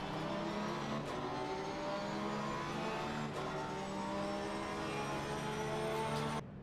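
A race car engine in the Assetto Corsa Competizione racing game drones at steady high revs, with slight pitch shifts as it overtakes another car, continuous and fairly loud with no talking.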